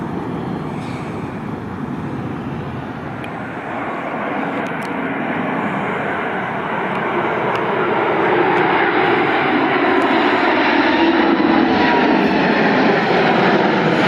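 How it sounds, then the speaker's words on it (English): An Airbus A350-1000 airliner flies a display at the 2025 Paris Air Show, its jet engines a broad, steady roar that swells gradually louder as it approaches, with no talk over it. "This Airbus A350-1000 showing off at the 2025 Paris Air Show."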